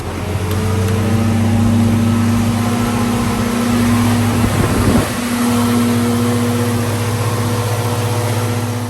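A Datsun 521 engine fitted with a Weber 32/36 carburetor idles steadily up close with a low, even hum, a brief rough wobble midway, then settling back to a smooth idle.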